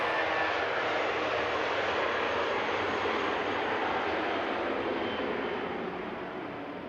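A departing airliner roars from Christchurch International Airport, its steady broadband engine noise loud and close throughout, easing slightly toward the end with no talk.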